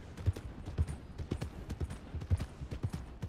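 Horse hooves clip-clop at a walking pace in the Red Dead video game, a steady series of close, soft thuds repeating about twice a second with no talking.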